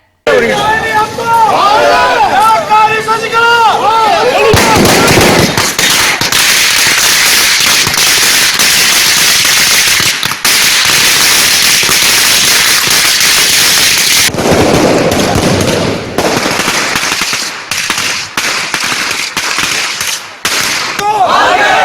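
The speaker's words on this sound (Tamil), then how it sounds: "நேற்று இரவு முதல் OPS ஆதரவாளர்கள் பட்டாசுகள் வெடித்தும்" Firecrackers bursting in dense, rapid volleys at a night-time celebration by AIADMK political supporters, loud and continuous with crowd chanting and voices mixed in, briefly easing before crackling resumes.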